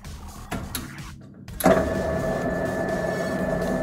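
A metal-turning centre lathe clicks and starts up, then runs at a steady mechanical hum with a clear motor whine, close and fairly loud, with no speech.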